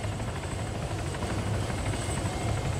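Helicopter rotor and engine from a video game with crew seats, a steady loud droning whir with a rhythmic low thump that runs throughout, close and unbroken, with no talking.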